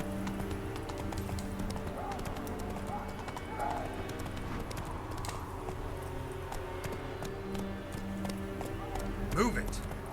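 Roach the horse gallops in The Witcher 3 video game, a quick rhythmic clip-clop of hooves running under steady game music and ambience, with someone talking over it and a brief louder accent near the end.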